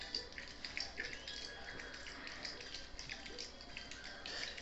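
Running water for a dog hisses and splashes steadily, like a tap or bath filling close by, with faint irregular drips and gurgles throughout.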